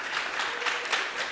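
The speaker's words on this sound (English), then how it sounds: "Everyone's cheering here at the Great Pitch Contest stage." An audience applauds and cheers at the Great Pitch Contest stage. The steady, even clapping sounds somewhat distant and hissy and carries on without a break.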